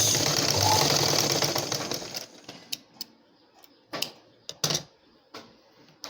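A sewing machine stitches blouse fabric with a dense, fast mechanical whirr for about two seconds. Then it stops, leaving scattered sharp clicks and taps.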